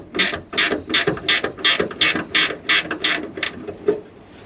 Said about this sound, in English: The next step is to undo the top nut on the bonnet hinge.